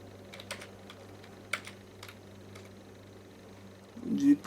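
Typing VBA code on a computer keyboard, with scattered individual key clicks at an irregular pace up close over a low steady hum, ending in a brief louder burst.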